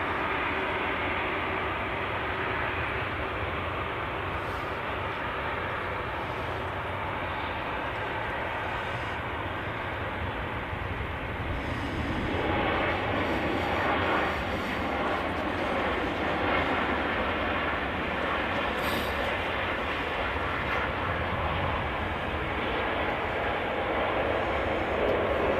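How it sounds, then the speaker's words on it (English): A Ryanair Boeing 737 MAX touching down at Manchester Airport, a steady broadband jet roar that swells louder midway and holds as the aircraft passes close, with no talking. "Ryanair Max next to touchdown."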